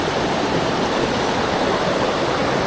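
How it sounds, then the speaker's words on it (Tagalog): A powerful current rushes at Ditumabo Mother Falls in Aurora, a loud, unbroken roar of churning water filling the whole moment without any voices. "Lakas na ng Agos."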